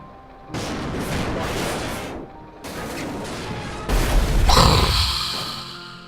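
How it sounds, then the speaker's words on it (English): Several loud bursts of explosion effects from the game Bridge Constructor crash and boom in quick succession, ending with a bigger blast that rumbles and fades. "You guys ready for an explosion?"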